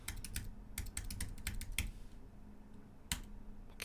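A username is entered on a computer keyboard in quick bursts of key clicks, then a pause and a single firm keystroke, near and fairly quiet, with no talking.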